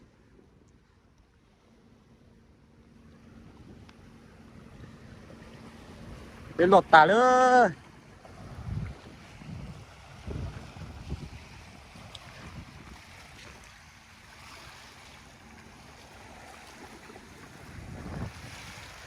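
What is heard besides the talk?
sea waves and wind at the beach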